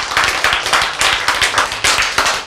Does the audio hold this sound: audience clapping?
yes